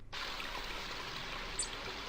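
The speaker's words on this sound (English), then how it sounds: "I think it's the sound of water that's asking me to quit" Looping river water from the King's Quest video game, a steady soft rushing stream that starts abruptly and holds at a constant faint level, with no talking.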